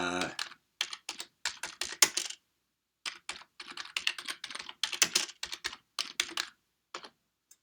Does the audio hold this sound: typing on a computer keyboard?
yes